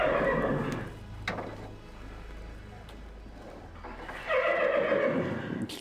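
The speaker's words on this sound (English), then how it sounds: "Totally real horse sounds. Not some guy neighing into a bucket." A horse neighs in the video game Gabriel Knight 2, two shrill whinnies, one at the start and a louder one near the end, over a low rumbling background with faint rain-like hiss between them.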